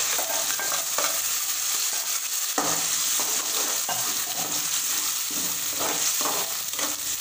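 Tomato paste spitting and sizzling in hot oil for an egg curry, a steady close hiss with repeated scraping stirs throughout and no talking.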